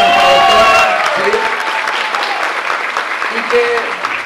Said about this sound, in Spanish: un aplauso gigante a nuestra doctora